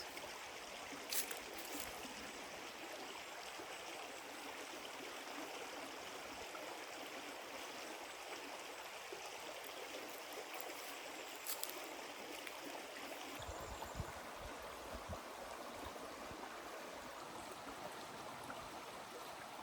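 A crystal clear summer stream near abandoned houses flows with a steady, soft rushing and gurgle, constant throughout with faint trickles, no voices.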